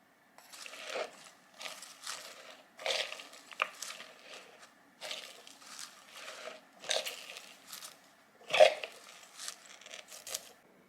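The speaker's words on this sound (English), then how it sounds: "Mix the cabbage with 2 teaspoons of salt" Shredded cabbage is tossed by hand with salt in a bowl, giving a rhythm of crisp, rustling crunches that come in bursts roughly every second, close and with no talking.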